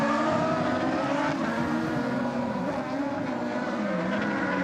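A crosscar junior race car at the fastest point of a circuit holds its engine on the rev limiter, making a loud, continuous, steady-pitched buzzing drone throughout.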